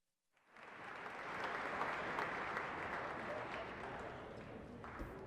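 Outdoor audience applauding the US Army Drill Team at a Twilight Tattoo performance, a dense wash of clapping that swells after a quiet start and holds steady.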